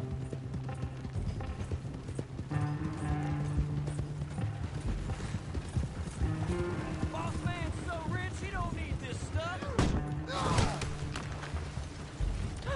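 Horse hooves clip-clop in the video game Red Dead Redemption, a steady clatter beneath game music and effects, with voices talking over it.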